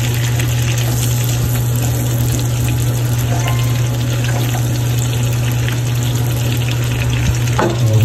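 Onions sautéing in a pan while shrimp is being cooked, a steady close sizzle with a low constant hum running underneath and a few stirring clinks.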